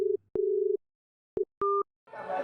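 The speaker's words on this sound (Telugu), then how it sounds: "వాడికి ఎన్నిసార్లు ఫోన్ చేసి లిఫ్ట్ చెయ్యట్లేదురా" Telephone tones sound over a line: several steady beeping tones of varying length and a two-tone pulse, then a burst of noisy clatter at the end, as a call goes unanswered.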